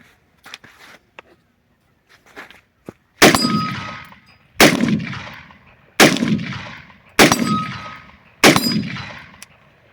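Five loud gunshots from a Diamondback DB15 rifle ring out at regular intervals of about 1.3 seconds, each a sharp crack with a ringing tail. They follow a few faint clicks and handling knocks at an outdoor range.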